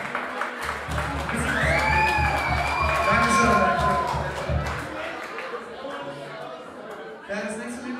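Crowd at a live metal concert applauding and cheering loudly, with whistles and shouts over a dense roar of clapping, alongside steady low drum or bass thumps; a voice calls out near the end as the noise fades.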